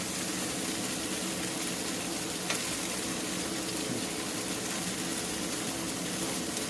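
Tofu frying in a pan, a steady broadband sizzle running continuously at moderate level with no talk over it.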